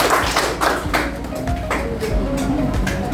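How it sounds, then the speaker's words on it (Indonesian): Students clap their hands in a classroom, giving a round of applause for a classmate after a chemistry lesson; the claps come as brisk, fairly close taps over a steady room background, with no talk over them. "tepuk tangan"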